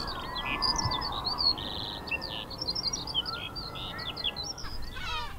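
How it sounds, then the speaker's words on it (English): Lesser black-backed gull calls ring out repeatedly over steady wind and background noise on Skokholm Island, a mix of sharp squawks and mewing cries at moderate distance. "Lesser blackback gulls look about the Manx shearwater burrows for scraps."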